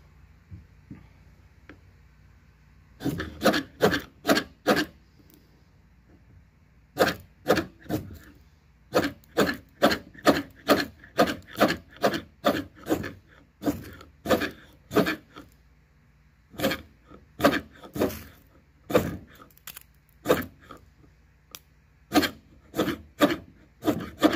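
Camillus budget camp knife scraping along wood, repeated rasping strokes in quick bursts of several pulls separated by short pauses, close and crisp, with nothing else underneath.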